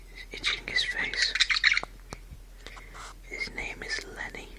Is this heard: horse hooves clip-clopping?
no